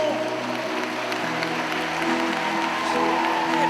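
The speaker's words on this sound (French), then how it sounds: "Vous pouvez les applaudir, vos délégations." An audience applauding the delegations at a Lourdes Cancer pilgrimage gathering: continuous, loud clapping from a large crowd in a reverberant space, steady from start to finish.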